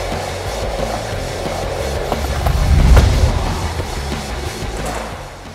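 A skateboard rolls steadily through a hippy jump attempt, a continuous rumble of wheels that swells to a louder, heavier thump around the middle before easing back into rolling noise, with no talk.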